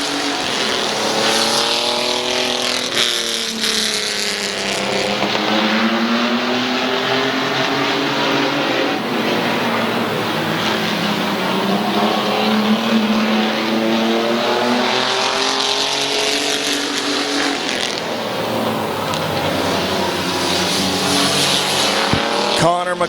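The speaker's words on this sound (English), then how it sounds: "Here comes Johnson to the inside for the race lead" Race cars on the Midvale Speedway dirt track roar past in loud, rising and falling engine sweeps, with multiple cars passing close in waves.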